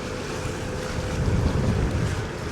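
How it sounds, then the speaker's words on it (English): Wind blows across open water in the Florida Keys during kayak fishing, a steady low buffeting roar with microphone rumble and faint water sloshing against the boat. "It's getting windier now though."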